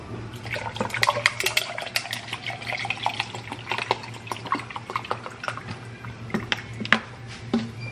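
Tap water runs steadily into a sink in a home kitchen on a winter morning, a continuous close splashing stream with a low hum underneath and no talk.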